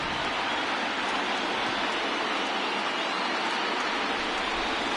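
Steady rain hisses evenly over a baseball game in MLB The Show 20, a constant wash of noise with no voices on top.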